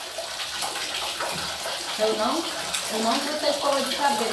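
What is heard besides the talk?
shower running water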